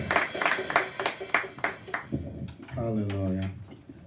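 A congregation at a Sunday worship service claps in a steady, rhythmic beat for about two seconds, then a voice takes over with sung, drawn-out tones.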